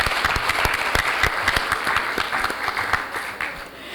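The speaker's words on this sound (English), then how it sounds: "Let's give ourselves a round of applause." Audience applause at the close of an opening ceremony, loud and close, with distinct individual claps in a brisk, uneven patter.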